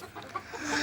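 Chickens cluck in a Minecraft-style video game, a few short, close clucks in quick succession.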